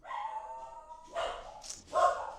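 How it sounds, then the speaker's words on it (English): Indoor dogs bark and yip in short bursts at close range, a few sharp barks breaking over quieter stretches. "My dogs don't always bark at the cops."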